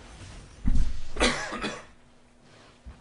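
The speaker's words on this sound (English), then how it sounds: "every now and then I have to turn and cough" A man who is a little sick coughs, a short burst of harsh coughs up close, followed by a quieter stretch and a faint final catch.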